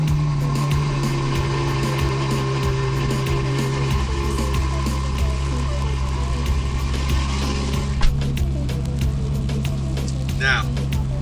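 A tuned Ferrari F12 with an FI exhaust runs close by, its engine holding a deep steady drone that shifts tone twice as the revs change, while a person talks over it.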